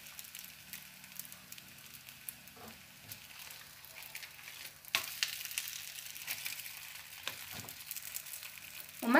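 Three flatbreads cooking dry in a pan with no oil for Moroccan rfissa: a faint, uneven crackle and sizzle with scattered sharp pops, swelling briefly louder partway through and again at the end.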